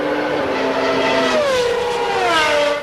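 A Formula 1 car, a Williams FW14B, howls at high revs as it pulls away from a hairpin, its engine note falling at a gear change and then climbing again, loud and continuous with no voices.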